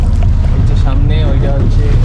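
A gondola carrying five passengers glides along the Venice canals, with a steady loud rumble of wind and water under people talking and chattering throughout.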